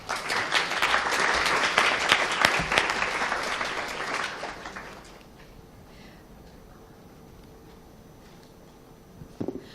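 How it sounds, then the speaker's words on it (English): Audience applause for panel guests at a financial career day event, dense clapping for about five seconds, then fading to quiet room noise with a brief rustle at the end. "Please give them a big round of applause and invite them on stage."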